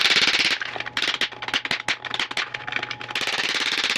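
Seized number five piston being broken apart to free the wrist pin in a 55-year-old Land Rover Series engine: loud, close bursts of rapid hammering that start and stop, like a jackhammer.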